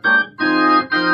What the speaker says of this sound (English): So what it sounds like without the chorus is this.